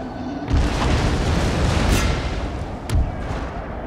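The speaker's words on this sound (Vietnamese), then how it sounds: "Cái pháo này của nó bắt đầu tấn công mình rồi." Cannon artillery fire booms in the Napoleon Total War video game, with a loud blast near the start and another a few seconds later, each rolling out over a continuous low battlefield rumble.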